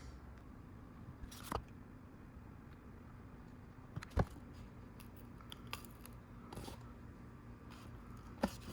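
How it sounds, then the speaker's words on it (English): Scissors snip through balloon material for a DIY mosaic number, with a handful of crisp, close cuts spaced irregularly over a soft background hiss. "I'm gonna cut straight like this with an angle."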